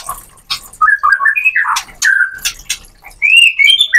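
A murai batu, or white-rumped shama, calls close and loud with a rapid run of varied whistles, chirps and squawky notes, bursts broken by short pauses.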